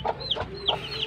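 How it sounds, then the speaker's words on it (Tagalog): Backyard chickens kept by a father at a rural countryside home cluck in a few short, close calls, with one slightly drawn-out note between them. "Yung mga alagang mga manok ni tatay."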